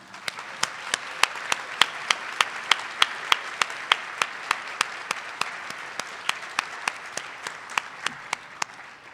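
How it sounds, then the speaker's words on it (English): Applause for award winners at a banquet, a steady wash of many hands clapping throughout, with sharp evenly spaced louder claps standing out on top in a regular rhythm. "let's give one more big round of applause for all of our award winners"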